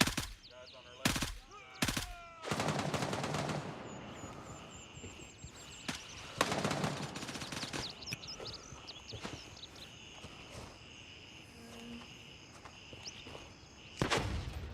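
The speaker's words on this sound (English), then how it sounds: "Whoa, that was the airburst grenade." Gunfire and a heavy airburst grenade blast in the military shooter Gray Zone Warfare: sharp close shots crack early, then a loud burst with ringing rumble, scattered footsteps and distant firing, another sharp shot near the end.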